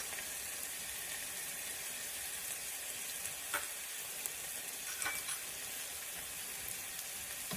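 Turmeric powder and masala sizzle steadily in a pan with garlic, a constant frying hiss broken by a few soft scraping stirs, close and moderately quiet.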